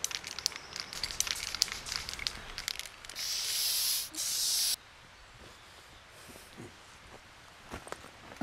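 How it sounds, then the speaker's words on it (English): Someone sprays beech trees on Dartmoor: a steady rush of hissing spray lasts about two seconds, then cuts off abruptly, leaving quiet outdoor ambience with faint rustles. "He's spraying the trees."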